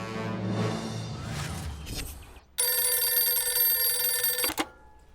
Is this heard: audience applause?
no